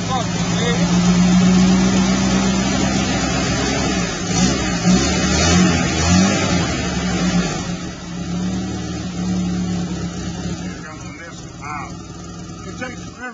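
A 1985 Jeep engine runs steadily just after a cold start, a loud close rumble that holds fairly constant and eases slightly toward the end, with people talking over it.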